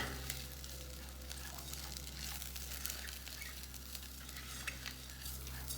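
Rice sizzling in hot oil with onions and turmeric, stirred steadily in the pan with a soft continuous frying hiss and faint scraping, close and fairly quiet.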